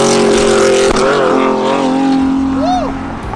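A car pulls away at speed, its engine droning loudly with a rising pitch sweep near the end, heard close with a voice speaking over it.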